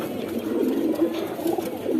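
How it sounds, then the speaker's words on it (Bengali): Pigeons in a loft, heard as soft, low cooing repeated a few times close by over a quiet background. "এগুলো যেগুলো আছে এগুলো সবই হচ্ছে বাইরের বাসার কবুতর"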